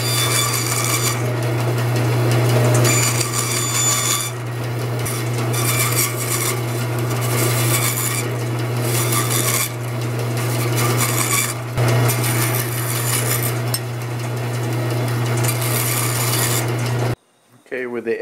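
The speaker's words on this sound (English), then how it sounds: "Now that it's all cured, we're trimming up the plastic." Steady scraping and rasping as cured plastic is trimmed along the edges of a rubber mother mold for casting bronze bottle openers, continuous close-up work over a constant low hum, ending in a brief silence.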